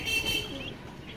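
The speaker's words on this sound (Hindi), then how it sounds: "ये कुछ कबूतर यहाँ बैठे हैं हमारे ऊपर की तरफ।" Pigeons perched overhead on a rooftop give faint, brief calls against a soft outdoor background hiss, mostly in the first half-second.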